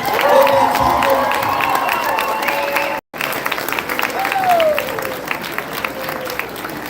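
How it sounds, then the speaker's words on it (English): Sustained applause and crowd noise from an audience at a city centennial painting unveiling, steady clapping with some cheering, briefly cut near the middle before continuing. "Can everybody give a round of applause for the Folk Ensemble?"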